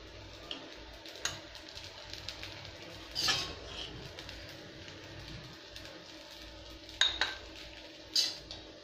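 Sabudana khichdi scooped from a pan with a metal utensil, quiet scraping and a few sharp clinks of metal on the pan, close but faint.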